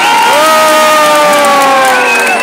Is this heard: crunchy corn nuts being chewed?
no